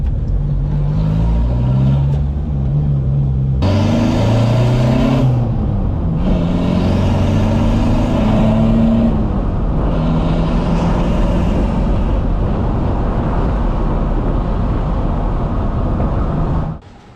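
A Volkswagen TDI diesel car fitted with upgraded .205 injector nozzles drives steadily, its engine droning loudly and continuously from inside the cabin, pitch rising and falling through gear changes, with no talking.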